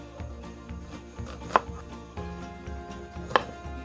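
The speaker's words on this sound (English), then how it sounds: "He wants you to see me chopping them." Chopping onions with a knife on a cutting board while making chicken paprika, rapid steady blade taps with two sharper knocks, close and clear with no talking.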